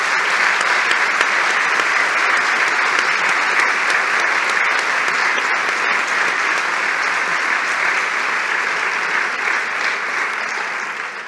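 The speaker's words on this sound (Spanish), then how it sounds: "desde aquí os agradecería un fuerte aplauso" An audience at a 2023 diploma ceremony breaks into strong, sustained applause, a thick wash of clapping that stays loud and steady before tapering slightly at the end.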